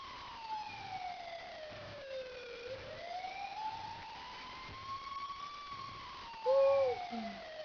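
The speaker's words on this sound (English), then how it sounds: "Is that a siren?" A wailing emergency siren sweeps slowly up and down in pitch for several seconds, moderately distant, with a brief louder chirp near the end and no talking.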